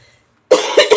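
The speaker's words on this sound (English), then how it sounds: "But there's a cough." A single close, sharp cough in two or three quick bursts, loud after a moment of near silence.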